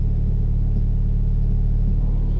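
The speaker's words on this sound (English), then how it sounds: "And I hear traffic." Steady low rumble of road traffic passing near a stretch of temporary lights, a continuous engine drone with no voices over it.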